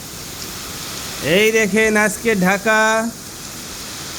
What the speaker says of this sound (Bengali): আজকে ঢাকায় দেখেন কি পরিমাণে বৃষ্টি হচ্ছে।